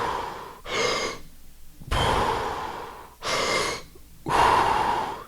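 A free diver drawing slow, deep inhalations with an open-throated hope breathing technique before a dive, four long airy breaths in a row, close and loud, separated by short quiet gaps.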